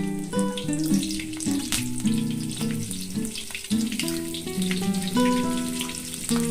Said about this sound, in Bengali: আর ফোড়নে দেব এক চামচ কালো জিরে আর দিয়ে দেব দু থেকে তিনটে কাঁচা লঙ্কা